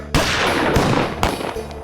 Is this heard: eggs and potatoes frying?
no